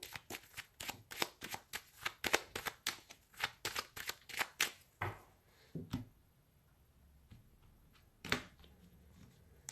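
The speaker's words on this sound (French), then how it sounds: "Je vais faire une coupe avec mon tarot." A tarot deck being cut and shuffled by hand, with a rapid series of crisp riffling card snaps for several seconds, then a few scattered soft taps and card slaps, close and quiet with no voices.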